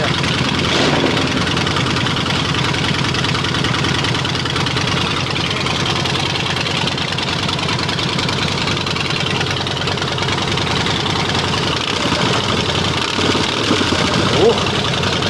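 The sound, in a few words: Harley-Davidson motorcycle engine idling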